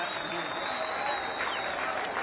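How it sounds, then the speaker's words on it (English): Audience at a ceremony applauding flyover pilots, a continuous steady round of clapping heard at a moderate distance with a faint tone over it. "a warm round of applause as well for the talented pilots who graced our skies with this magnificent"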